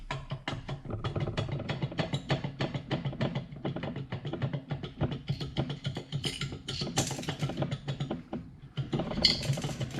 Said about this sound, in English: Little washers falling off and going everywhere